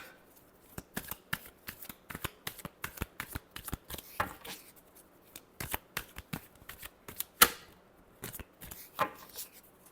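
Tarot cards being shuffled by hand, a rapid series of close, crisp riffling flicks and taps in uneven clusters, fairly quiet, with no voice over them.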